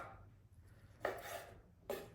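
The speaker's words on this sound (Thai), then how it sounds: "ไทเลอร์หั่นไก่ครับ" A kitchen knife chops through raw chicken on a board, two quiet, separate thuds about a second apart over a soft background hum.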